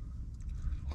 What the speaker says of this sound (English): I like my broccoli with that almost raw crunch, but definitely steamed.